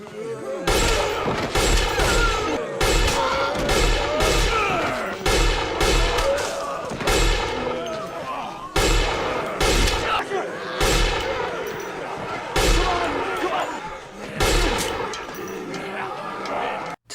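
Rapid pistol gunfire rings out, a dense run of loud, close shots fired in quick bursts with brief gaps between them, in a zombie-infested city street.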